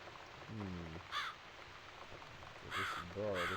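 A crow cawing in The Cat Lady video game, with several harsh, close caws in quick bursts spaced across a few seconds over faint rain, with a brief low vocal sound early on.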